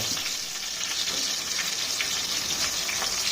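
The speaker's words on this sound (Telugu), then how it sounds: "ఉల్లిగడ్డ మంచి బ్రౌన్ కలర్ వచ్చేదాకా ఫ్రై చేసుకోవాలి" Finely chopped onions fry in a pan until brown for coriander chicken pulao, with a dense, even hiss of sizzling oil and a few faint stirring sounds, close and continuous.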